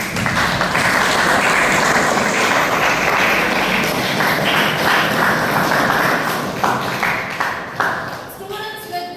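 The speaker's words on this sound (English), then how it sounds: "Please give them an applause." Audience applause at an institutional student presentation, a continuous wash of clapping that holds steady and then thins out toward the end, with a few voices faintly mixed in.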